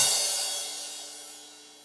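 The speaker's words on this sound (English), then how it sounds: "I'm gonna load up that crash sample. It sounds like this." A single crash cymbal hit sampled from a jazz funk acoustic drum kit: a bright, washy splash that slowly decays over about two seconds, heard alone.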